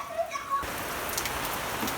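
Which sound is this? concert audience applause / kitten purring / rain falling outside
rain falling outside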